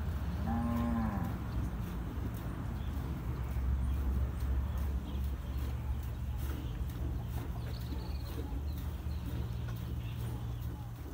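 A large dairy cow with black markings lets out a single loud, close moo near the start, followed by steady farmyard background noise.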